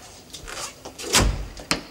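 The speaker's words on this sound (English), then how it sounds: "Shut the door." A door swings shut indoors in a British sitcom scene, a single solid thud with a short rattle, preceded by faint shuffling and followed by a small knock.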